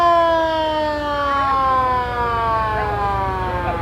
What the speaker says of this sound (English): That guy likes his siren.